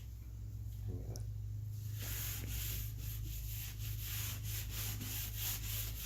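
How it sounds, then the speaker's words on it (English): Rust-Oleum Furniture Transformations deglossing finish being scrubbed by hand onto a wooden table: a steady run of rhythmic back-and-forth rubbing strokes over a low constant hum, close and moderately loud. "So I've been applying it onto the table and then scrubbing it."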